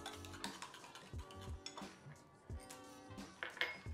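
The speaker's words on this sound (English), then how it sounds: "Just gonna add a bit more of that unmelted chocolate in, and then you have to keep stirring" Spoon stirring melting chocolate in a bowl, with unmelted pieces being added, while tempering it for a chocolate, pear and caramel cake; repeated scraping clinks and taps of utensil against the bowl, close and fairly busy.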